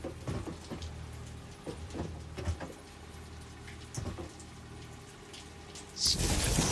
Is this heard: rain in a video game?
yes